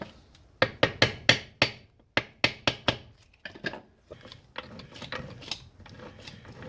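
Hammer strikes with a soft drift on EJ Holden engine parts during assembly, a run of sharp close metallic taps in quick bursts, then lighter, irregular knocks.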